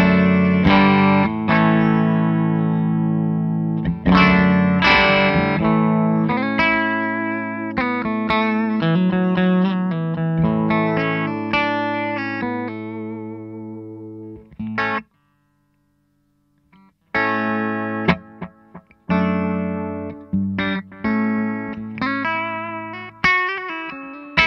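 An electric guitar played through a Boss DD-200 delay pedal into a clean amp with no amp reverb: a run of loud, close picked notes and chords with repeating echoes, then a brief silence and more phrases.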